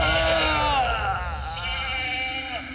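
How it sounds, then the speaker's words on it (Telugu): Cartoon sheep bleat loudly and continuously in a comic chase scene, wavering cries layered over a busy, noisy background with no talking. "ఆపండి నా గొర్రెలు!"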